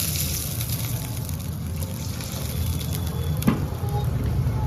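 Water is poured into a pan of cooking vegetables for Maggi, making a soft, continuous sizzling rush that swells briefly with a stir and a clink.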